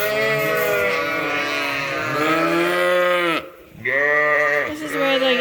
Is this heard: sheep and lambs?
yes